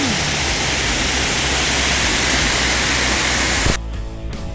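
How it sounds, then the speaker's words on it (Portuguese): A waterfall pours at the top of its drop in a rocky municipal park, a loud, steady broadband rush that abruptly cuts to quieter surroundings near the end. "só dá de ver o início da cachoeira"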